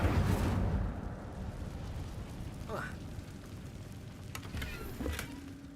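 A fire spell cast in the Hogwarts Legacy video game lets out a loud whooshing burst in the first second, which fades into quieter game ambience broken by a few small clicks and rustles.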